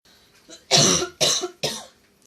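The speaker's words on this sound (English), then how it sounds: "Hang on, I need to cough." Three loud, close coughs in quick succession from one person, each a sharp burst, with a faint throat noise just before and near silence after.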